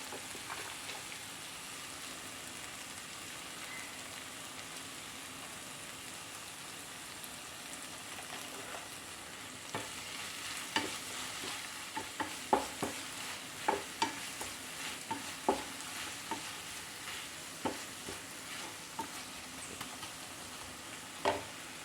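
Tomatoes frying in a pan for soya chunks masala, stirred steadily with a constant sizzle and soft scraping that turns into a run of sharper, louder stirring clatters in the second half, with no talking.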